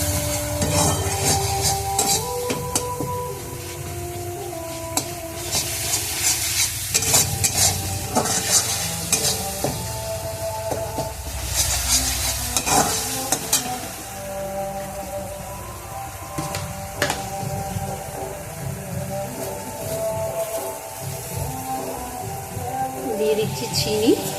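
A Bengali masala for vegetarian banana-flower mochar ghonto is sautéed with a little water in a pan, with loud continuous scraping and stirring over a wet sizzle and a tonal background throughout.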